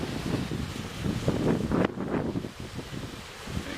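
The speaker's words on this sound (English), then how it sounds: "Getting very windy now." Strong, cold winter wind gusts roar steadily across a fishing spot, buffeting the microphone with loud, rumbling noise that swells and eases without a break.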